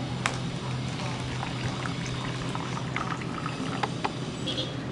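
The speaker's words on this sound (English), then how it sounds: "fill 4 to 5 milliliter of water" A small amount of water, about 4 to 5 milliliters, trickles into a glass for a rainbow water experiment, a soft continuous pour with faint splashing droplets and a few light clinks.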